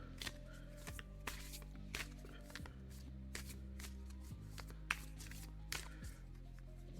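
Large oracle cards are shuffled by hand in repeated riffling bursts, close and crisp, with a steady low hum underneath and no speech.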